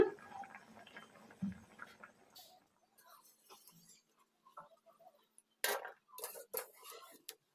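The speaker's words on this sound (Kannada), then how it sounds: "ಆಲೂಗಡ್ಡೆಯನ್ನು ಒಂದು ಪ್ಲೇಟಿಗೆ ತಕ್ಕೊಂಬಿಡೋಣ" Boiled potatoes being shifted onto a plate in a home kitchen, giving soft clinks and light taps of utensil on dish, sparse and faint, with brief louder scraping bursts near the end.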